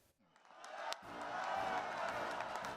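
A friendly union crowd of Teamsters and labor members welcoming President Biden, a broad roar of cheering and whoops swelling up after a brief quiet start and holding steady and loud.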